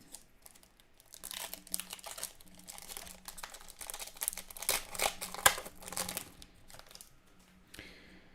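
Foil trading card pack for AFL Select Footy Stars being ripped open by hand, with several bursts of sharp crinkling and tearing, close and fairly quiet, with no speech.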